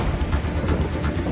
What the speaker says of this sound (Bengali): আরে হঠাৎ করে বৃষ্টি শুরু হয়ে গেছে